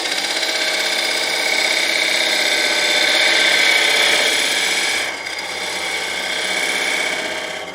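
Spindle gouge cutting the bottom of a wooden bowl on a lathe, a steady loud hissing, scraping whir with a brief dip near five seconds before the cut resumes.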